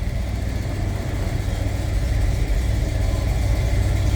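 A 1963 Ford Fairlane 500 two-door hardtop idles as it warms up, a steady low rumble with an even pulsing beat, loud and close, with no voices.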